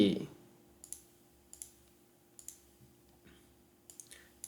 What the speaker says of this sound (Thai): ให้มาคลิกที่ตั้งค่าตรงนี้นะครับ